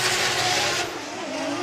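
Drift cars racing at Formula Drift Japan, a loud, continuous engine roar with revving and tire squeal filling the whole stretch, close and unbroken.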